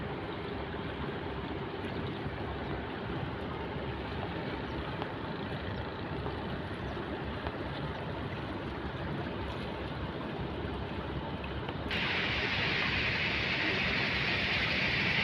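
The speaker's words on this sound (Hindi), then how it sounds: "कितना फोर्स से पानी निकल रहा है।" Water gushes forcefully from a dam on the Narmada river, a steady loud broadband roar that holds for the whole stretch and turns brighter and harsher near the end.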